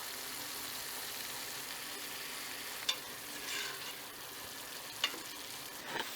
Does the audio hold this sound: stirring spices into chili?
yes